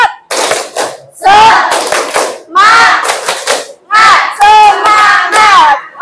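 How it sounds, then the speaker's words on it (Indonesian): A classroom group performs the rhythmic tepuk semangat spirit clap, loud bursts of clapping mixed with chanted group shouts in repeated phrases, close and energetic. "Tepuk semangat."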